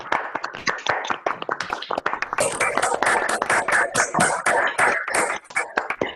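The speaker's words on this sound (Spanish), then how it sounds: "le damos un aplauso a los 4 invitados" A small audience claps for four guests at a gathering, sparse individual hand claps at first that thicken into brief, uneven applause close by, with a few louder sharp claps.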